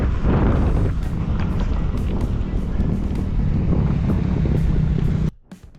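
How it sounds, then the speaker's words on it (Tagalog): Strong headwind roars across the microphone while cycling on a long climbing road in Aurora province, a loud continuous buffeting rush that cuts off abruptly near the end. "Pero bago kami makarating doon, napakalakas ng headwind."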